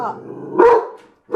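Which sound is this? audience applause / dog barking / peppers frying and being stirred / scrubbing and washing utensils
dog barking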